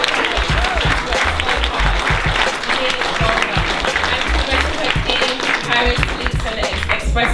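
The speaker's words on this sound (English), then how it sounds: "can we just all give Janine Bailey a round of applause?" Community youth event audience giving a steady, loud round of applause that fills the whole stretch, dense clapping from a large crowd with voices mixed in.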